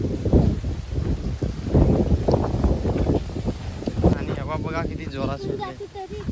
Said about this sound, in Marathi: बघा हवा किती जोरात सुटली लय जोरात हवा